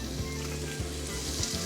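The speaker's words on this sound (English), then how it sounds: "Oh, it's sizzling." Onion and garlic sizzle and fry in a hot pan for a Bolognese, a steady close crackle with a few low clunks of stirring underneath.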